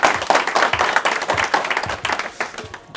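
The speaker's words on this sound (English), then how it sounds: "let's give DJ a big round of applause." Audience applause at a live speaking event, a dense burst of many hands clapping that holds steady before starting to thin out toward the end.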